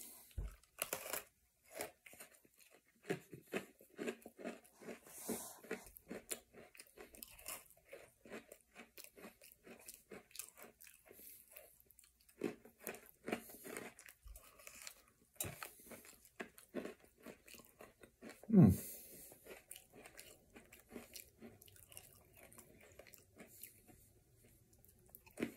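Close, crisp biting and crunching of Oreo Coca-Cola sandwich cookies with icing and popping candy, followed by quieter chewing and sporadic crackles, with one sharp crunch near the end.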